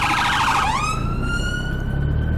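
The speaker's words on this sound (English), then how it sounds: "I hear sirens, ambulance coming up behind me." A loud ambulance siren wails steadily, its tone sliding down then holding a sustained pitch, approaching from behind on a narrow road, with road rumble underneath.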